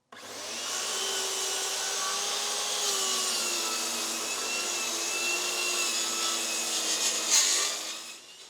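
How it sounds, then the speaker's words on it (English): A saw slices an angled cut through wood to make wedges, giving a steady, close whining hum with a rasping edge that runs unbroken for about eight seconds. "I'm just going to cut it and see if it looks good."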